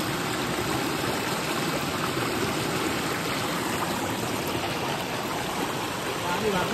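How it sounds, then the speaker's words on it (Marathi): A river running high during heavy Konkan monsoon rain, a continuous broad rush of flowing water close by, steady and unbroken throughout. "जेव्हा आपली नदी वाहते बघ तेव्हा असं पाणी वाहतो बघ."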